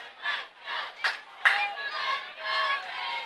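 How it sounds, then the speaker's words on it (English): A crowd at a high school varsity football game at Carl Engel Field, Riverdale High School, chants "Let's Go Raiders" in rhythmic swells, with claps and shouts punctuating the repeated chant at moderate distance. "A Let's Go Raiders chant is broken out here at Carl Engel Field on the campus of Riverdale High School"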